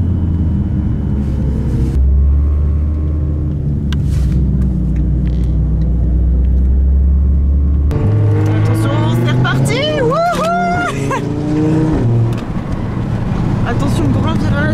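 A McLaren sports car drives on a race track, a loud steady engine drone rumbling throughout, with other cars passing close by; people talk over it in the second half.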